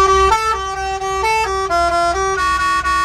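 A truck air horn fitted with a horn module plays a rapid melodic sequence of bright, stepped tones, loud and close for about three seconds, with no voices.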